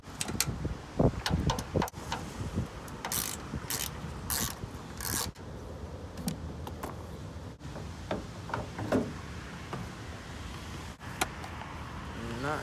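A ratchet turns a T25 bit to loosen aftermarket tail light screws, with irregular clicking and scraping ratchet strokes and occasional sharp ticks, close and fairly quiet.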